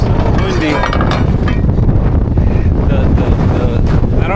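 Strong, cold wind buffets the microphone beside a flatbed truck in a continuous loud roar and rumble, with faint voices partly buried underneath.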